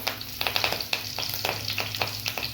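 Mustard seeds, cumin and curry leaves crackle and sizzle in hot oil for a tempering, with rapid irregular pops over a steady frying hiss, close and fairly quiet, with no voices.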